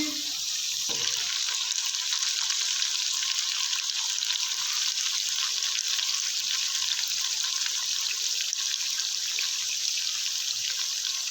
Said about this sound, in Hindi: तकरीबन 5 मिनट हम इसकी अच्छे तरीके से बुनाई कर लेंगे।